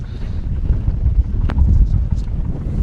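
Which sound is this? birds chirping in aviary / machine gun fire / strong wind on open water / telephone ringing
strong wind on open water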